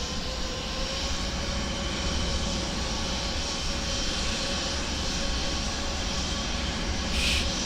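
Steady, loud roar of airliner engines on an A220 in Microsoft Flight Simulator 2024, a continuous broadband jet drone with faint tonal whine, running unbroken and close throughout.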